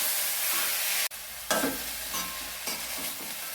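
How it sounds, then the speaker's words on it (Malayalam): Jackfruit thoran stirred in a pan with mustard seeds and chillies: loud sizzle cut off abruptly, then scraping and stirring with softer frying underneath, no voices. "ഇളക്കി കൊടുക്കാം നന്നായിട്ട്."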